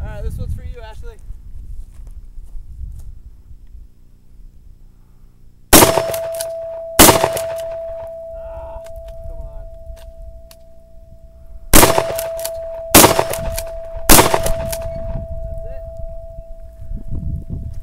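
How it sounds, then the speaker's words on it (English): Five sharp blasts of a 12-gauge shotgun firing birdshot at a 70-pound steel plate outdoors, each followed by a ringing metallic clang that sustains between shots, with people talking quietly around them. "he's going to be shooting 12-gauge birdshot at the steel plate"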